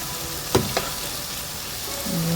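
Sinigang sa miso with pink salmon stirred in a pot, two sharp scrapes of a utensil against the pot over a soft simmering hiss, then a brief tonal clink near the end, no talking.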